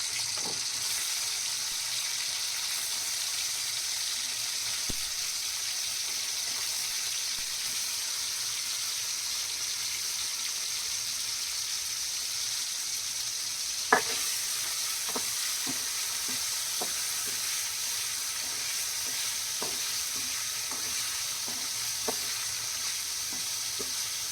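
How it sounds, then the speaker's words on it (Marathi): Paneer frying in a pan for a homemade veg volcano pizza gives a steady, even sizzle throughout, with a few faint clicks and taps of stirring and no talk. "पनीर आता टाकूया आपण फ्राय करून घेऊया पनीर"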